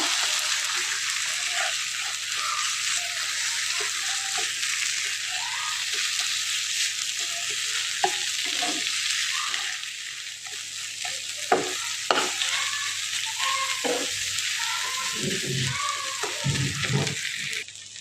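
A spoon stirs and mashes ground ash gourd leaf paste in a pan, with soft wet scraping and squelching strokes over a constant bright hiss, the motion quickening with several firmer knocks toward the end.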